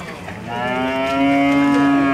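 A cow lets out a long, rising moo that swells and holds at an animal fair in Pesqueira, Pernambuco, Brazil, fairly close and clear over faint background noise.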